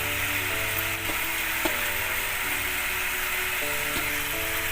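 Small mourala fish, already fried, go into a pan with salted water and fried brinjal for gima greens, and a steady dense sizzle fills the whole stretch with faint clinks now and then.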